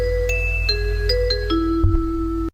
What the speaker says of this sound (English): It's just the chime